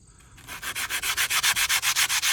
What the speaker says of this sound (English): Got the sanding block at Home Depot.